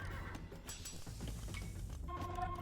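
Horse neighs and whinnies from Age of Empires 2 as mounted units are produced, a short whinny followed by hoof clatter and a bright chime.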